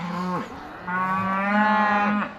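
Two long, close cow moos, one short and one drawn out, with a brief pause between them.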